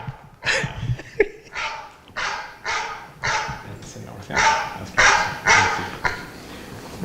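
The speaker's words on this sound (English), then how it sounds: "And why are there dogs in here?" Several dogs bark repeatedly at close range inside a trike shop in a steady series of loud, overlapping barks, with faint voices underneath.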